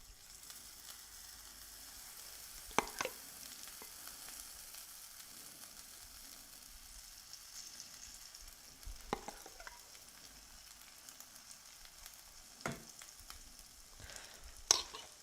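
Batter-coated cauliflower frying in oil, giving a faint, steady low sizzle with a few sharp utensil clicks scattered throughout and no voices.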